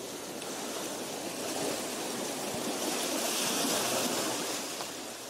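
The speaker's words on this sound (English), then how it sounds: "All this... just rainstorms and water moving around." A played recording of a rainstorm and moving water gives off a steady, dense wash of hiss and rushing water that swells slightly midway, with no talking.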